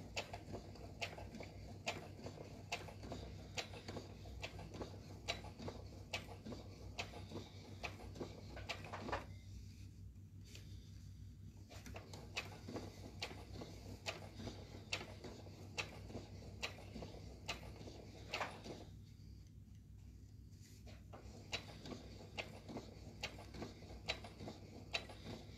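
A sewing machine stitches pieces of a cathedral window quilt, its quiet mechanical ticking running in steady bursts broken by two short pauses.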